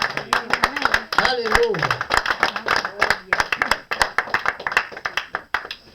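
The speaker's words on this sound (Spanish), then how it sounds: "Aplauda a Jesús esta mañana, por favor." A church congregation at a Spanish-language service claps in quick, rhythmic, fairly close bursts, mixed with voices calling out over the clapping.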